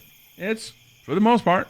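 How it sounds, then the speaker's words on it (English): Crickets chirp outside, a faint, continuous high trill running steadily under a man's close speech. "can hear the crickets somewhat on the outside."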